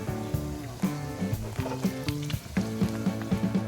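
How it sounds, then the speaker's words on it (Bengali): Cubes of paneer sizzle and crackle in hot oil, a bright hiss running under rhythmic background music. "তেল গরম হয়ে আসলেই কিউব করে কেটে রাখা পনিরগুলো আমি তাতে দিয়ে দেবো।"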